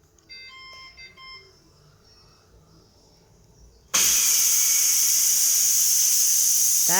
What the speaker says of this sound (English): it's going to automatically release the pressure